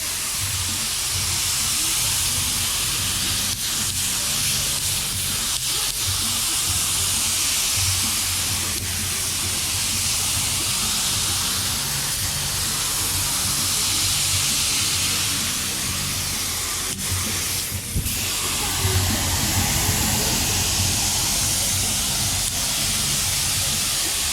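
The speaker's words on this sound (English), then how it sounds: "I'm just basically spraying it on" Continuous loud hiss of an aerosol can spraying rust preventative primer onto a truck bed, steady for a long stretch with a few brief pauses and clicks.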